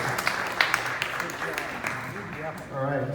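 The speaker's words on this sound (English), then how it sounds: "let's give him a round of applause" Applause from the audience at a United Patriots AZ meeting, steady crowd clapping filling the room with a few sharper claps, and a voice briefly heard near the end.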